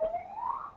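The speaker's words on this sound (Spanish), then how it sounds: "está pasando una ambulancia por la avenida" An ambulance siren passes along a city avenue, a faint wailing tone that sweeps upward in pitch and fades slightly, heard alone at a distance.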